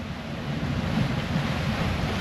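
Waves break around a catamaran sailing at sea in a 25-knot squall, a dull rushing surge with wind hiss, fairly close and steady.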